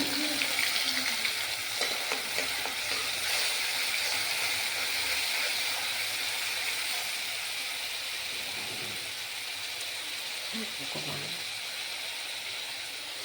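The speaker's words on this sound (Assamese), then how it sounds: "বটা পিঁয়াজখিনি মই ধুনীয়াকৈ ইয়াত ভাজি ল'ম" Ground onion paste frying in a little oil for ghugni, a steady hissing sizzle close by with light stirring, softening toward the end, while someone speaks briefly over it.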